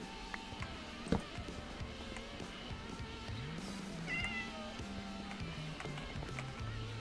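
A cat meows a few times in the Minecraft video game, short game sound effects heard over soft background music and ambient game noise.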